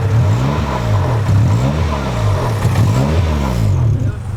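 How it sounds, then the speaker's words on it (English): Car engine misfiring while revving: a loud, close, rough engine with an uneven, stuttering pulse that rises and falls repeatedly, and people talking over it. "Oh, it's misfiring."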